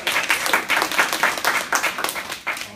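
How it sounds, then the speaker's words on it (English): Warm audience applause welcoming the next presenter at a citizens' lobbying presentation, a dense wash of clapping with slight swells, fairly close and alone with no talking. "a big warm round of applause"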